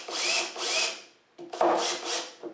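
A power drill drives screws into the legs of an industrial black pipe bar height table, giving two close, whining runs, then a short clack and two more bursts of drilling.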